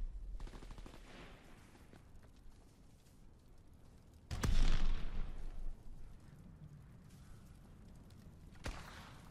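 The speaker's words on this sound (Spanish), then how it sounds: "¡Nos dispara el artillero de una aeronave enemiga!" Gunfire from an enemy aircraft gunner in the WWII shooter Call of Duty WWII multiplayer, with a loud burst of shots and a booming impact midway, a sharp crack near the end, and rumbling battle noise throughout.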